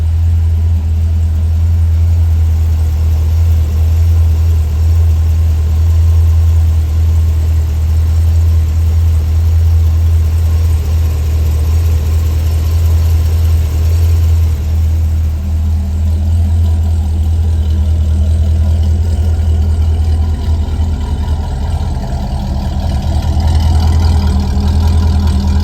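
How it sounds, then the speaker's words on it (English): A 2012 Corvette C6 Grand Sport's cold engine idles, a loud, deep, steady rumble held close and unbroken for the whole stretch, with no revving. "walk around the engine so you can hear it."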